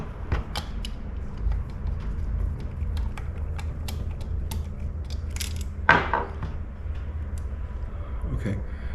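A screwdriver works on a Holley carburetor accelerator pump. Small clicks and light metallic ticks come in a quiet, close, irregular scatter, with one sharper scrape partway through.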